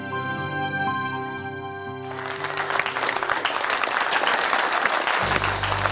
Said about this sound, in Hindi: तो चलिए देखते हैं कि जितनी जोरदार तालियां मिली हैं इन्हें